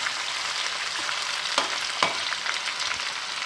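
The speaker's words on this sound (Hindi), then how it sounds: "चिकन को उस वक्त तक फ्राई करना है जब तक ये गोल्डन ब्राउन ना हो जाए" Chicken pieces for dagi korma sizzle in a pan of hot oil, a dense, continuous crackle heard up close. A couple of spatula knocks stand out near the middle, and there is no speech.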